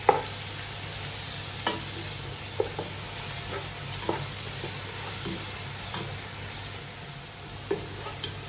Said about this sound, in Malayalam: ഇത് നന്നായിട്ട് നമുക്ക് ഇളക്കി യോജിപ്പിക്കാം